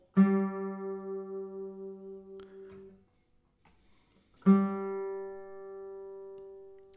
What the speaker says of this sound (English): what you hear are the beatings